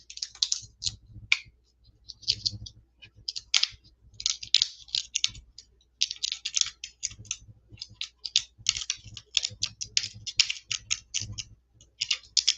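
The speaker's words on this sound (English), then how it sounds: "I'm going to cut this one into a few pieces to tie in with this one." Paper card being snipped into pieces with scissors while making a Nativity Christmas card: a steady run of short, close, crisp cutting clicks in quick irregular bursts, with no talking.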